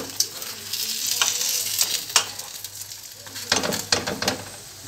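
Tomato and pepper yufka börek frying in a pan, a steady sizzle all the way through with occasional louder crackles and a few scraping clicks of a utensil, close up.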